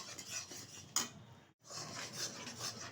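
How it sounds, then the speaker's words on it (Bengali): A spatula stirs jaggery syrup in a pan for making puffed-rice murki, producing continuous close scraping and rubbing with one brief pause midway. "তো ভালোভাবে নাড়িয়ে পাক দিয়ে নিচ্ছি।"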